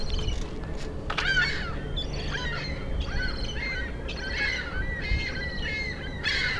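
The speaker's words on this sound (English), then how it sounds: "there's seagulls and some other kind of seabird" Seagulls calling repeatedly in harsh, squealing cries, several birds overlapping at moderate distance over a steady low rumble of outdoor background noise.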